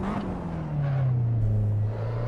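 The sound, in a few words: race car engine revving in a racing sim video game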